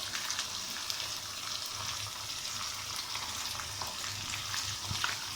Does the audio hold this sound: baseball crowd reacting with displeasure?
no